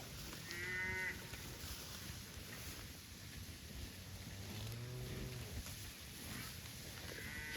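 Cattle lowing on an August grass pasture, a few drawn-out moos from the herd spread through the stretch, moderately near over steady wind and open-air background, no talking.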